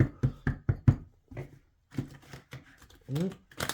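A few quick, sharp taps and riffles of cards being cut and shuffled, then a voice speaks briefly between the clicks.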